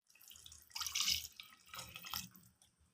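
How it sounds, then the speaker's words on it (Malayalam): Meat stock is poured into a pan of stone-ground spice paste, a short soft splashing pour of liquid that swells twice and fades, fairly faint and close. "അതിലേക്ക് ഇറച്ചിയുടെ വെള്ളം ഒഴിക്കും."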